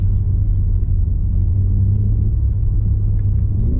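A 2023 BMW G80 M3 Competition xDrive heard from inside the cabin with the windows closed while driving, its engine a steady, deep, loud rumble with no clear revving.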